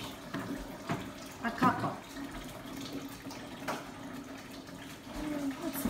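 Perrier sparkling water pours and fizzes in a steady gurgling stream, with brief splashes and bubbling, while people talk over it.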